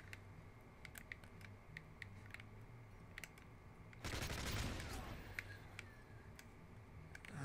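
Gunfire in the video game Call of Duty: Modern Warfare 3: faint scattered shots and clicks, then a denser burst of firing midway, quiet and distant throughout.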